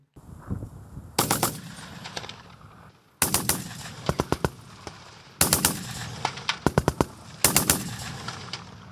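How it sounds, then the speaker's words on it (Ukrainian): A Browning machine gun fires in repeated bursts during military training, sharp rapid shots in four clustered volleys separated by short pauses, loud and close with echoing tails. "А це вже бійці 115-ї бригади відпрацьовують свою майстерність з пострілів з кулемету Браунінг."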